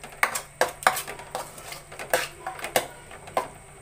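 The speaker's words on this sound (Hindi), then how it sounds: "तो दही आप इसमें वेल मिक्स कर लें" Curd being stirred into spiced egg curry in a pan, heard as a string of sharp metallic clinks and scrapes of a spoon against the pan at an uneven rhythm, close and fairly quiet, with no talk.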